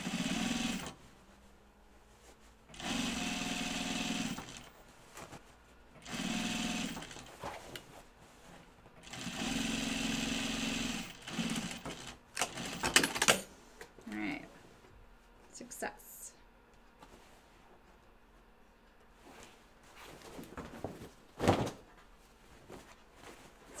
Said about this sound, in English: now we're just edge stitching